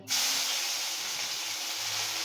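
Ginger paste hits hot ghee and oil in a pan while cooking doi paneer and sizzles at once, giving a loud, steady, close hiss that holds for the whole moment with no voices.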